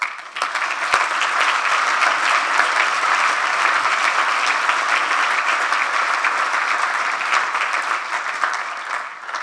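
Sustained applause from a conference audience at the close of a minister's talk in a formal panel discussion, dense, steady clapping that fills the room and slowly eases toward the end.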